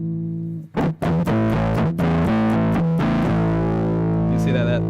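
Electric guitar run through a Hector & Beebo synth pedal's filter with distortion, choppy strummed chords buzzing and sweeping through resonant filter tones, loud and close, with short gaps before a final sustained ring.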